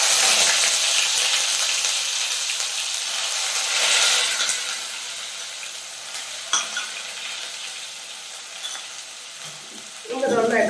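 Ground onion paste and green chilli sautéing in hot oil for chicken Mughlai, a loud continuous sizzle with occasional stirring scrapes and a clunk near the end.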